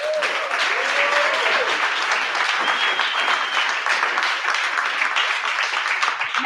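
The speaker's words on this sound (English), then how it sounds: "I'm going to ask you to applaud again." Audience applause fills a conference hall at a social innovation challenge event, steady and dense for the whole stretch with no pauses, loud and close, with a faint voice briefly audible underneath.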